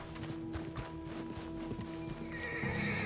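A horse in the video game Red Dead Redemption 2 whinnies while hooves clop in an uneven rhythm nearby, over a steady low background drone.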